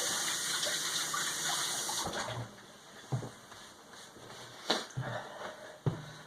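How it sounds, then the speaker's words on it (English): A Copper Chef 10-inch nonstick pan is rinsed under a running kitchen tap: a steady gush of water for about two seconds, then the pan knocks and clanks against the sink several times while the water keeps running softly. "I'm going to wash off this thing real quick."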